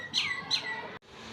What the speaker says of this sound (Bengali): পাখি ডাক দিতেছে, পাখির ডাকটা সুন্দরই লাগে না?